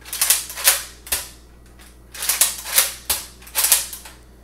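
A Nerf Elite Rampage blaster firing and being cycled, sharp close mechanical clacks and springy thwacks in rapid irregular clusters, with short pauses between bursts.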